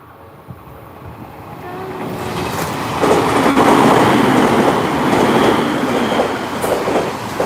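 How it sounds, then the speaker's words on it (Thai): A train rumbles past a level crossing at close range, its roar building steadily and holding loud, with rhythmic wheel clatter and a faint horn-like tone over the noise. "จะให้ดูจุดนี้มาแล้วเสียงรถไฟมาแล้ว"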